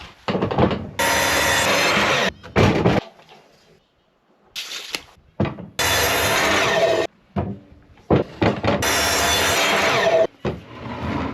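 Wood is hand-sawn into pieces for a box, several bursts of rasping back-and-forth strokes separated by short pauses, close and loud.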